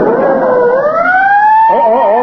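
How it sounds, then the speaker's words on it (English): A loud, close ambulance siren in a 1938 radio comedy broadcast wails in a long rising sweep, then breaks into a rapid warbling yelp. "There goes another ambulance."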